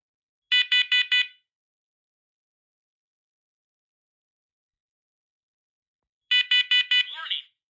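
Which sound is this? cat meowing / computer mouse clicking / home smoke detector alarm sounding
home smoke detector alarm sounding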